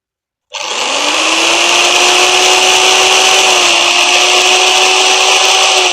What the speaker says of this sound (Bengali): এটা হচ্ছে আইক্যান কোম্পানির ইলেকট্রিক চেনসো মেশিন